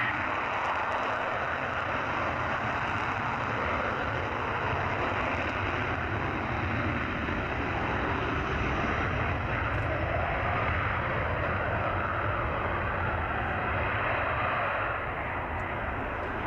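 Jet aircraft taking off at an airshow, a steady broad roar of engine noise sustained throughout, fairly loud and continuous without voices.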